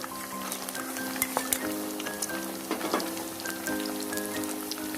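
Ground onion and tomato paste hit hot oil in a pan for beef kosha bhuna, giving a steady crackling sizzle with scattered pops and faint stirring clinks, fairly quiet and without talk.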